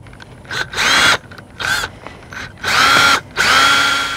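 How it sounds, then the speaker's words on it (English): A power drill drives a one-and-one-eighth-inch screw into a storm door hinge, a loud whirring motor in four bursts of varying length separated by short pauses, with no talking. "We're going to set our hinge in here and screw this one in."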